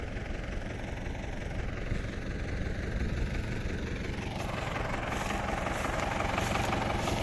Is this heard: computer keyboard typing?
no